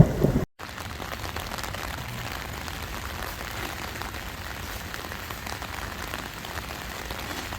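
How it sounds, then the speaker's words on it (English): Steady rain falling on a surface near the Eiffel Tower in Paris, a dense continuous patter at even loudness, with a brief gap near the start and no voices. "Tut tut, looks like rain."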